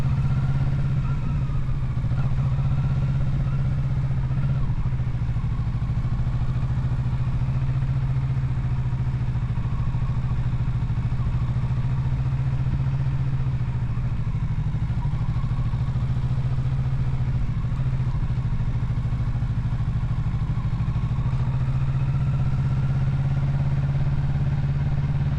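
A 2024 Kawasaki Z650RS running steadily as it weaves through slalom islands in a parking lot, a constant mid-pitched engine drone with slight rises and dips, close and loud throughout without any talking.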